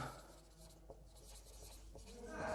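Writing on a board during a lesson: faint, soft scratching strokes with a couple of small taps, quiet and steady, with no speech.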